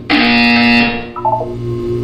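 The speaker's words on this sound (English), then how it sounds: "You will hear a buzzer." A loud, harsh electronic buzzer from the Portal 2 video game sounds for just under a second, followed by a softer synthesized tone after a short gap.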